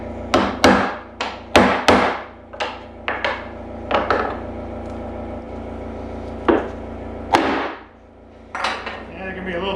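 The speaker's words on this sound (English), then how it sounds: "rubber mallet, because it's nice to get these, tap these into place." Rubber mallet knocking wooden cabinet door and drawer frame parts into place in an off-grid cabin workshop, a string of sharp, close taps in irregular bursts with short pauses between.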